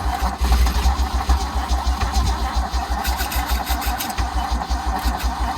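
The engine of a 1974 Nissan Caball shop truck cranks in a loud, steady, rhythmic chug, close by and without talk.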